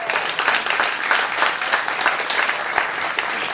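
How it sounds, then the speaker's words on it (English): An audience at a comedy roast breaks into loud, sustained applause, a dense clatter of many hands clapping steadily from start to finish. "Can I get a round of applause?"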